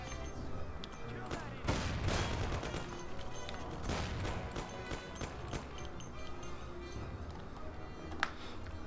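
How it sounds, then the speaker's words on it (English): Gunfire in the video game Mafia: The City of Lost Heaven, a rapid, dense volley of shots and bursts crackling over several seconds with a sharp late crack, voices mixed in. "I'm gonna fire some shots."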